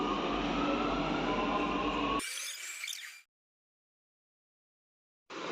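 Metro train in a station rumbling and clattering loudly for a couple of seconds, then a thinner metallic squeal before a sudden silence and the noise returning.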